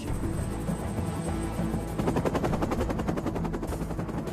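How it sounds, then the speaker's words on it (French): A loud, continuous military helicopter drone with rapid rhythmic blade chopping from supersonic rotor tips that grows stronger midway, rough and close, with no voices. "c'est le bruit que font les rotors, car l'ennemi vous entend arriver"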